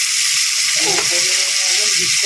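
Chopped onion frying with garlic in a hot pan for igado, a loud, steady sizzling hiss that lasts the whole time, with faint tonal murmurs beneath it.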